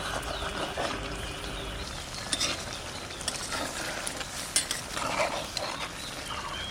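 A pot of onion stalks cooked with eggs simmers with a continuous hiss and sizzle while a spoon stirs it, giving irregular scraping and clinking strokes against the pot.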